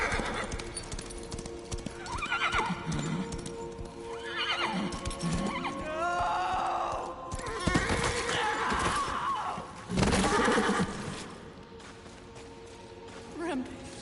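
Rampage, the horse in the video game Darksiders 3, neighs and whinnies repeatedly amid clopping hooves and thuds from in-game fighting, loud and close, with short pauses between calls.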